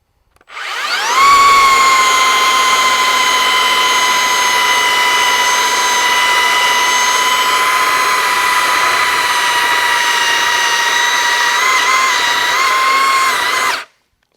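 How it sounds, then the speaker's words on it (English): A Milwaukee M18 FUEL 3x18-inch cordless belt sander starts up at full speed and runs steadily with a high, even whine for about twelve seconds, then cuts off; close and loud, no talking. "let's do some sanding"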